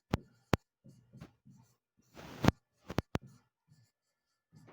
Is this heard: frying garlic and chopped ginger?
no